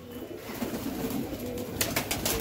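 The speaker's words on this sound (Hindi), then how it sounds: "ये यहाँ पर पटड़े ले हैं उड़ने वाले कबूतर है सारे" Soft, low cooing from home-bred flying pigeons close by, with rustling and a few flutters of wings toward the end.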